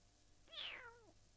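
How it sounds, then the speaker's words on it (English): A big cat lets out a single drawn-out meow, close but fairly quiet, with a falling pitch over a soft steady background hum. "that is a big old cat"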